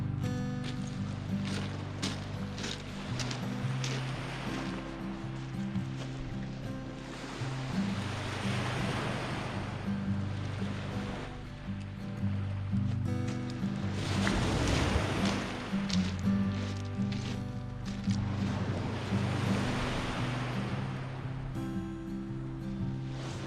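Sea waves roll onto the beach at Bootle, Cumbria, a steady surf wash with swells building and breaking around the middle, mixed with gusts of wind noise, and low voices talking now and then underneath.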